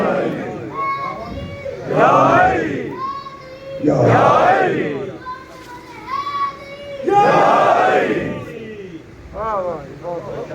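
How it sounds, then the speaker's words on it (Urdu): A crowd gathered at an imambargah in Multan during a Ramzan religious gathering chants slogans in loud, repeated bursts, with a child leading some calls. The rhythmic call-and-response waves rise and fall over about ten seconds. "بہت عمدہ نعرے لگائے، اچھے نعرے لگائے"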